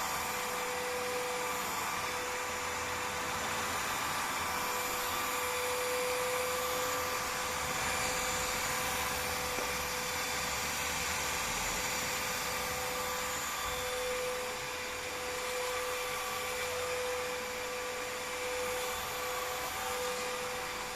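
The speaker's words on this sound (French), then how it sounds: "au lieu de passer l'aspirateur et ensuite laver le sol avec un seau et une serpillière, de faire avec cet appareil les deux choses en même temps" A vacuum mop appliance runs steadily, vacuuming and washing a floor at once, giving a continuous whining motor drone with a high tonal hum, close and even in level, with no talk.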